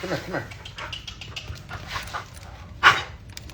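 A dog pants close by in quick, rhythmic breathy bursts, with a brief high whimper near the end; soft voice sounds may lie underneath.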